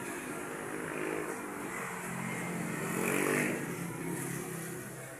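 Motorcycles on a town street in Gandara, engines droning past at moderate distance, one swelling louder mid-way before fading, over a constant background hum.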